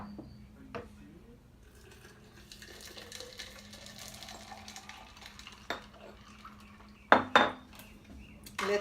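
Watermelon lemonade with ice and water stirred in a pitcher, giving light clinks and clatter of a spoon against glass and ice, with a few sharper knocks near the end, close up and fairly quiet.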